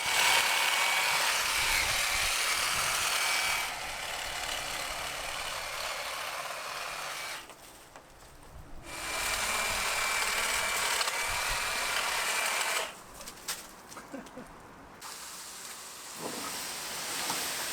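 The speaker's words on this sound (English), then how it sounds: "I have the Bosch Home Garden Easy Hedge Cut 1845" A Bosch Easy Hedge Cut 18-45 cordless hedge trimmer cuts back an overgrown hedge along a narrow garden path behind a house, running in long steady bursts with two brief pauses, fairly loud and close.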